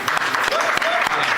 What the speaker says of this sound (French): Est-ce qu'on peut un peu applaudir un peu belle histoire?